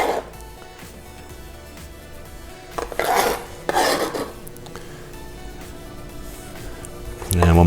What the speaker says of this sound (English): So we're going to chop that fairly fine.